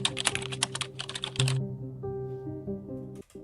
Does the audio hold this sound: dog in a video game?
no